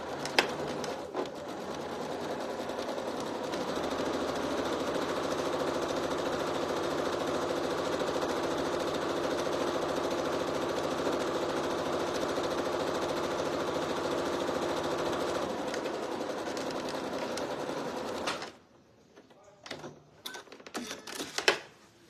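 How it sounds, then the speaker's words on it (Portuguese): A sewing machine runs a long steady seam on a fabric panettone basket, a dense continuous whir for about eighteen seconds before stopping abruptly, followed by a few brief handling clicks. "Agora eu vou fazer uma outra costura aqui"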